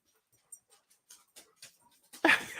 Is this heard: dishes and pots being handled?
no